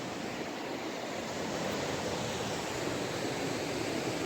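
Rushing water below a very tall stone railway arch bridge, a deep swimming hole: a steady, loud broadband roar like surf or a small falls, continuous and even throughout with no voices.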